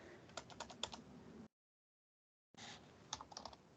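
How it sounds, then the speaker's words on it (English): Keys clatter on a computer keyboard in quick, uneven bursts of close clicks, broken by a full second of silence before the typing resumes. "So I'm going to just start typing"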